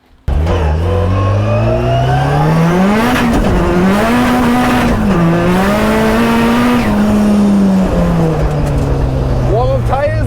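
A 500bhp Mazda MX5 NC drifting, its engine revving loudly up and down in rising and falling sweeps with tyre squeal layered over it, close and continuous, with speech heard over it.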